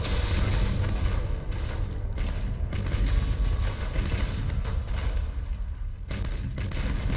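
Starship weapons in Battlefleet Gothic: Armada fire in a heavy, continuous barrage of deep booms and thuds, loud and rumbling throughout without pause.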